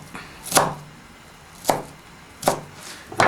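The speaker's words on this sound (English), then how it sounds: "Just cut it up, make sure it's quite thin." Knife slicing onion thinly on a board for pakora, four sharp crisp cuts spaced about a second apart, close and clear with quiet between them.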